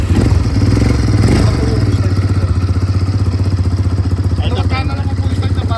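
A Shark 4x2 ATV engine runs at a steady idle, a low, even throbbing hum that stays close and loud throughout, with a person talking over it.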